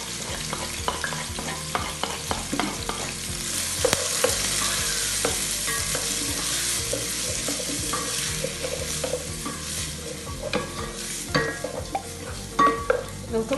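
Diced onions frying in oil with green hoho peppers and dania (coriander) stems, a continuous close sizzle broken by frequent spoon stirring and scraping against the pan, no voices.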